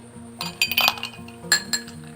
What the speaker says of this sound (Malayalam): ഗ്ലാസ്സിലേക്ക് കുറച്ച് ഐസ് ക്യൂബ് ഇട്ട് കൊടുക്കാം